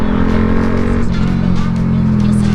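A Yamaha Sniper 150 motorcycle with a Gori pipe exhaust and silencer fitted revs close by, giving a steady, loud, throaty drone with a pulsing low rumble.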